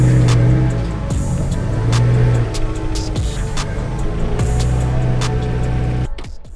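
A rally car running strong race fuel accelerates hard in a loud, close engine drone, with the pitch shifting through gear changes and some ticking and rattling. The engine cuts off abruptly at the end.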